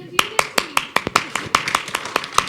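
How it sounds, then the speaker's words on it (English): Sparse, sharp claps ring out in a fairly regular rhythm, about a dozen distinct hand claps from a small group at a film press meet, close and clear with a faint voice underneath. "Clap, guys,"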